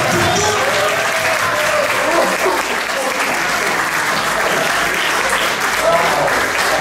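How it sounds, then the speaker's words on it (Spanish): Church congregation applauding steadily for the full length, a dense, loud wash of clapping with crowd noise and voices mixed in. "denle un aplauso al Señor"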